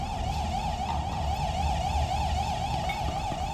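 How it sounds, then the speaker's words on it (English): An alarm siren wails steadily in the video game Control, a continuous warbling tone held at even loudness over a thick low rumble throughout. No voices are heard. "Once again, there's a siren going."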